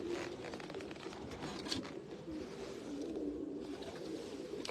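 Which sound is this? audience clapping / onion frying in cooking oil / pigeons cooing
pigeons cooing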